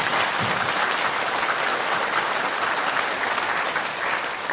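Loud, dense applause from a church congregation giving thanks at the close of the year, sustained and even throughout with no talking.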